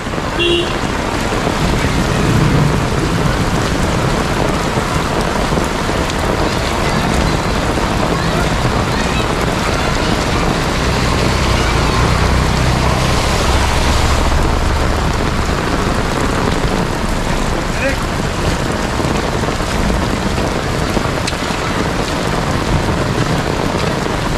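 Heavy monsoon rain pours steadily over Mumbai's Thane area during a stormy spell, a dense unbroken hiss of downpour on streets and surfaces lasting throughout, with no distinct thunderclap standing out.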